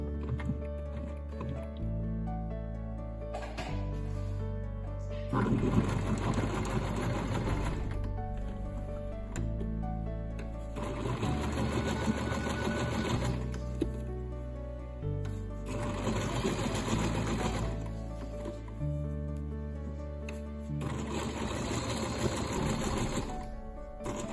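A sewing machine stitching a piece of fabric in bursts of rapid, even mechanical chatter, each run lasting a few seconds and separated by short pauses, close and clear, with no talk.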